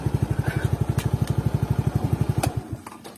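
Rapid, even metallic knocking pulses from the starter of a Suzuki Skydrive Sport motorcycle, close and prominent for nearly three seconds before cutting off, with a few sharp clicks after.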